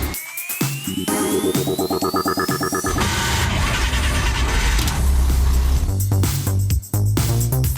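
A yellow retro car's engine cranks with a rapid, rhythmic starter whir for a few seconds, then catches and runs loudly up close, revving with a steady roar that dips briefly near the end.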